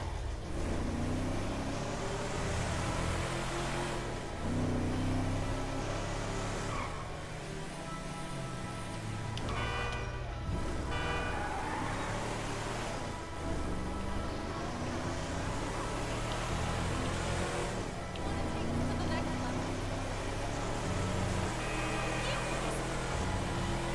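A sports car in the video game Grand Theft Auto V races along at high speed, its engine droning and rising and falling in pitch as it shifts, steady and loud throughout with game sounds layered in.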